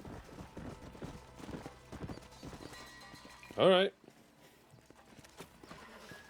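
Horses clip-clop in the Red Dead Redemption video game, with a quick run of hoofbeats that slows and halts, and a loud whinny partway through. Someone speaks briefly, and other voices talk over the scene.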